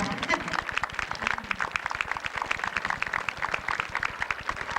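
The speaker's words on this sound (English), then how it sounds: "A little applause for them, I think." An audience at a community pool opening claps in a brisk, fairly dense rhythm, with a voice speaking over the applause.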